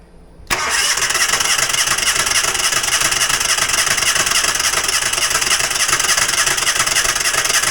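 A Falcon 4-stroke outboard engine catches after a brief quiet moment and then runs at a loud, steady, buzzing pitch close by, holding constant throttle for several seconds with no talking.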